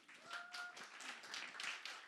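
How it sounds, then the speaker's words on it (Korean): A church congregation applauds during a Sunday worship service. Faint, distant, scattered clapping rattles for about two seconds, mixed with soft murmuring voices. "자, 나올 때까지 박수 해주세요."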